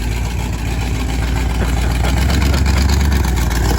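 A rat rod custom car's engine runs loud and close, a steady deep rumble with a throaty idle that holds constant throughout, no voices over it.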